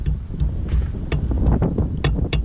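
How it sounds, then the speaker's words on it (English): Gusty outdoor wind buffets the microphone with a steady, rough rumble and scattered thumps, loud and close throughout. "it's very windy out here"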